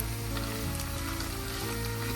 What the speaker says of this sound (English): you can actually hear the sizzling of the meat